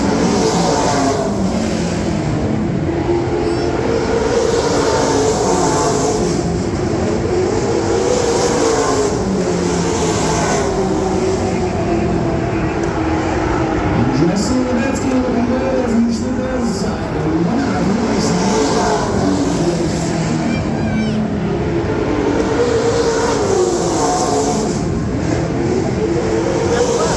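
Stock cars racing at Red Cedar Speedway roar steadily throughout, engines rising and falling in pitch as they pass, with a loud continuous track din and a faint tire squeal mid-race.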